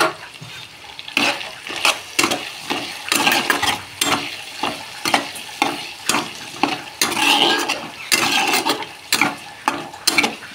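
Potatoes with turmeric and a little salt are stirred and sautéed in a pan: loud, close sizzling frying with a steady rhythm of spoon scrapes about every half second, and no voices.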